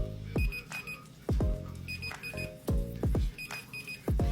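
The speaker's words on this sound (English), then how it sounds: "I'm dancing because the beeping is going off again." Kitchen timer beeping in a home kitchen during shrimp scampi cooking, a repeated pattern of short bright beeps in regular clusters, loud and close with no talk.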